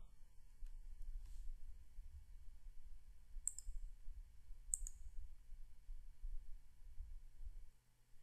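Two faint, sharp clicks of a computer mouse, spaced about a second apart over a low steady hum in a quiet room.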